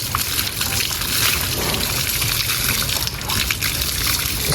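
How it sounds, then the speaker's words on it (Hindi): Water is poured in a steady, close trickle and splash that runs continuously with a few sloshing swells, amid background noise. "पानी डाला है मैंने।"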